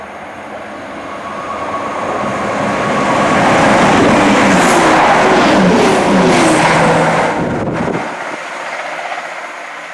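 A CrossCountry train runs through Dorridge station on the Chiltern Main Line, a loud sustained rumble and rush of wheels that swells and fades near the end, with no voices.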